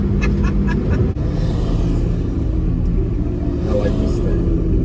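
A 1972 Chevrolet Nova on a test drive, its engine rumbling low and loud from inside the cabin, a steady heavy drone with slight rises, while a voice talks over it.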